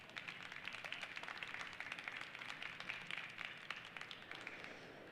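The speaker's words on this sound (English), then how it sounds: "Give them a warm welcome applause." Audience at an Indigenous leadership panel gives a warm welcome, a faint but steady patter of many hands clapping throughout, distant and without speech.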